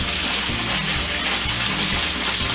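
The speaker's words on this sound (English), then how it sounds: "I'm going to pour some into my pan." Liquid poured steadily into a cooking pan on a low burner, a continuous splashing gush that holds level for the whole stretch with nothing else over it.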